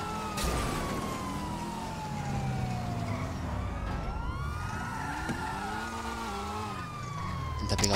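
A police car siren in GTA 5 Online wails with steady, sweeping rising and falling tones over a rumbling vehicle engine, fairly loud and continuous, with no talking.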